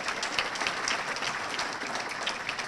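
A dinner audience at the Somerville Chamber of Commerce awards gives applause for Governor Charlie Baker, steady clapping from a crowd heard close and continuous throughout.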